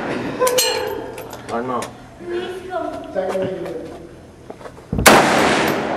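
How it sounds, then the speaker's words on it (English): A Soviet AK-47 assault rifle fires a single loud, sharp shot near the end, following a stretch of nearby talk. "Our weapon of choice, the best assault rifle of the Vietnam War, the Soviet AK-47."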